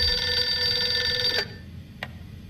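Telephone ringing in the point-and-click game Gabriel Knight 2, a steady electronic trill that holds for about a second and a half, then cuts off, followed by a single short click.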